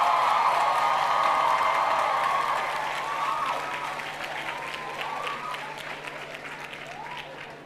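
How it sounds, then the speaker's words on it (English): An audience in a hall at a University of the West Indies Mona graduation ceremony in 2017 claps loudly and continuously, the applause slowly easing off toward the end as a voice begins to carry over it. "give them an enormous round of applause"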